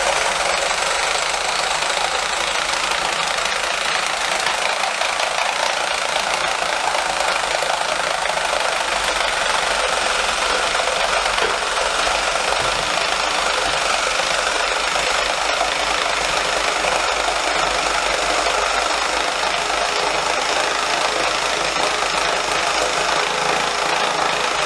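A RYOBI R18QS Quiet Strike impact driver drives a bit into decking, giving a loud, continuous buzzing rattle of rapid hammering that holds steady for about 25 seconds with no voices.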